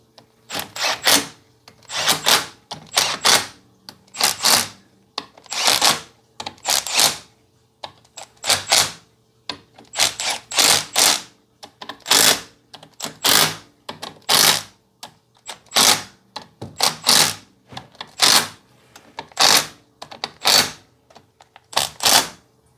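Bolts on a Jeep Cherokee differential being run down with a power tool in repeated short bursts, roughly twenty quick ratcheting whirrs with brief pauses between, close and fairly loud.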